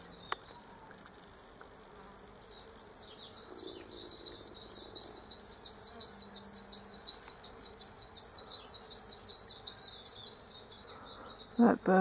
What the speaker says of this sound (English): That bird's the mistletoe bird.